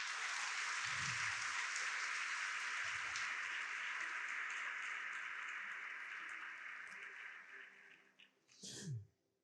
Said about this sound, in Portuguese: Aplauda o Senhor mais uma vez.